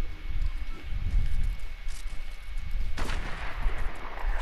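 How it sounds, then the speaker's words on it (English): Gunfire in a multiplayer shooter video game: dull, distant-sounding shots and low booms roll on throughout, with a sharper, louder burst near the end and no talking. "they're shooting, they're shooting"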